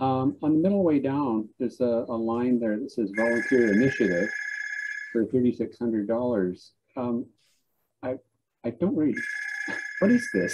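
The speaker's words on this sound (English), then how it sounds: "Sorry about the phone." A telephone rings twice with a steady electronic trill during an online council meeting, the rings alternating with someone speaking in between.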